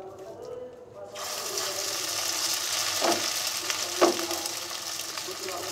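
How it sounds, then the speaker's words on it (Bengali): Noodle pakoras fry in hot oil with a dense, steady sizzle that starts abruptly and stays loud and close, with a couple of brief clinks from a utensil in the pan. "উল্টে পাল্টে আমি লালচে করে ভেজে নিছি"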